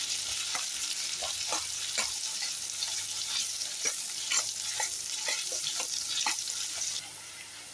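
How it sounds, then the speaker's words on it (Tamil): Garlic frying in ghee in a pan, with a steady close sizzle and repeated scraping stir strokes of a spoon throughout, the sizzle easing slightly at the end. "நல்ல நெய்யில் இந்த பூண்டு வதங்குறப்ப நல்லா வாசமாக இருக்கும்"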